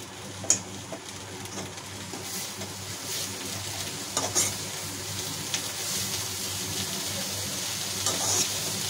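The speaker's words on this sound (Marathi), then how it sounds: "भाजी टाकून झाली आहे, तिला आपण खाली वर करून घेणार आहे." Dill greens frying and being stirred in a pan, a steady sizzle with scattered clinks and scraping from the stirring, close and continuous.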